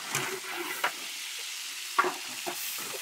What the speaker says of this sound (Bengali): আমরা গোশ রান্না করবো, টমেটোটা দিয়ে দেবো গোশের ভিতর।